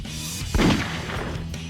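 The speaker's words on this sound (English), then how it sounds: "Gunshot!" A single sharp, loud gunshot blast bursts out from a Sonic video game, cutting briefly through a steady hum of in-game background sound.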